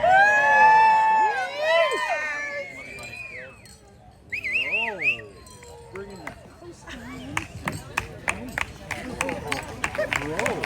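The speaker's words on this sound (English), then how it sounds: "Let's get a round of applause for Aiden" Wedding guests break into applause after a best man's toast, with sharp clapping, whistles and cheering voices following an earlier stretch of loud whooping and shouting.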